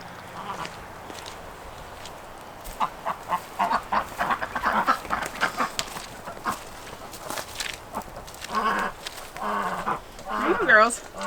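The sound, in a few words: ducks quacking while being fed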